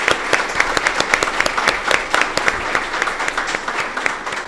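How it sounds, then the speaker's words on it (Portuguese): A podcast studio audience applauds steadily, dense clapping holding at an even level for several seconds, close and fairly loud, with a faint voice or two underneath. "pode aplaudir. Sensacional."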